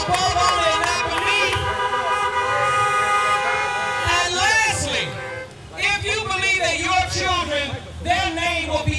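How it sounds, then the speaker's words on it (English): Many car horns honk together at a back-to-school church rally, a dense, continuous blare of overlapping tones with loud spurts, going on under a speaker's amplified voice. "I want you to honk those horns"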